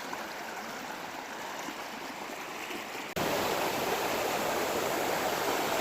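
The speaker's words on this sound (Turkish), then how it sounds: "Burada ufak bir şelale var." A steady rush of falling water from a small waterfall in Sadağı Canyon, Orhaneli, Bursa, close and continuous, suddenly growing louder partway through.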